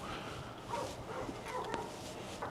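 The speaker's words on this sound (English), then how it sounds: "Okay, the dogs are barking now." Dogs bark and yip faintly in the distance, a few scattered calls over a low background hum.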